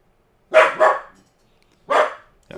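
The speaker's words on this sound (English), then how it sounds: "Got Max barking." A dog barks three times close by, two quick barks followed by a single one after a pause, loud and alone in a quiet room.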